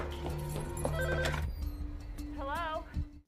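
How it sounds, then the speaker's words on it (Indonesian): A telephone rings unanswered in a mafia film scene, tonal ringing amid soundtrack music and background sounds, with a voice briefly heard near the end. "Namun sialnya tak ada satu orang pun yang mengangkat telepon si Warren."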